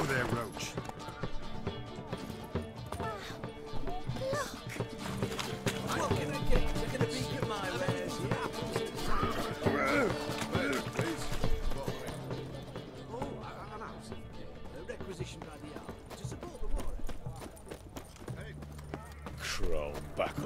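Geralt's horse Roach trotting in The Witcher 3, hoofbeats clopping steadily through the scene beneath game music and occasional voices.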